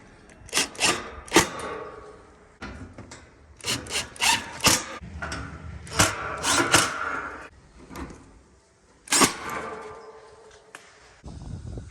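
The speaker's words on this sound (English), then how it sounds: "Put in our screws." Screws are driven into an air conditioner unit, producing close, irregular bursts of scraping, rubbing and sharp metallic clicks with brief pauses between, no talking.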